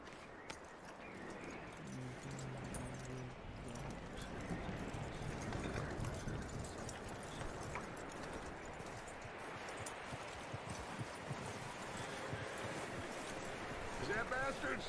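Horse hooves clop in a steady rhythm over ground in the video game Red Dead Redemption 2, moderately close under ongoing talk and outdoor ambience.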